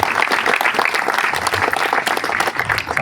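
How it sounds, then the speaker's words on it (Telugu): Loud, dense applause from a large audience at a religious worship gathering, continuous clapping filling the space for the whole stretch. "గట్టిగా చప్పట్లు కొట్టి దేవుని స్తుతించండి"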